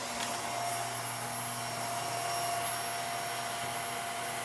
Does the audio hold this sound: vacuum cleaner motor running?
yes